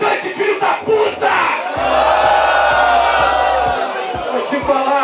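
An audience at a Brazilian rap battle, the Batalha do Coliseu, roars and shouts loudly together. Scattered yells build into a sustained crowd cry, punctuated by sharp whoops.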